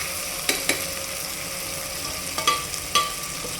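Curry leaves and tomatoes sauté in a pan for mutton kuzhambu, giving a soft, steady sizzle. A few sharp clinks and scrapes of stirring stand out above it, and the whole sound stays close and fairly quiet.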